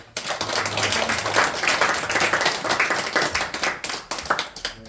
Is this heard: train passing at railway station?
no